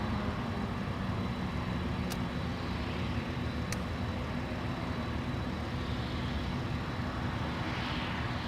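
A Boeing 747 at Anchorage's Ted Stevens International Airport, heard as a steady, unbroken broadband jet roar that holds at the same loudness throughout, with a faint higher whine, no voices and no clear change in distance.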